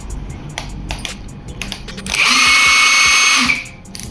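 An INGCO 3/4 inch cordless impact wrench rated at 1350 Nm fires in a loud burst of about a second and a half, with rapid hammering, preceded by several sharp clicks of handling or trigger pulls.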